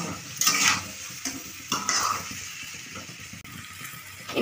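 A spoon stirs potatoes frying with salt, turmeric and chilli powder for coriander aloo dum, giving a steady close sizzle broken by a few louder scraping strokes against the pan.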